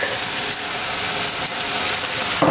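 Chicken meat with onion and sliced pepper sizzling in a full wok, a steady loud hiss like frying steam with no break, heard close up.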